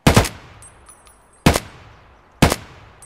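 Gunfire in the video game Escape from Tarkov: three loud, sharp single shots spaced about a second apart, each with a short decaying echo, close and alone with no talk.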